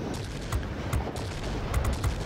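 Aircraft guns firing in World of Warplanes in quick bursts, crackling volleys layered over a steady engine drone for a couple of seconds.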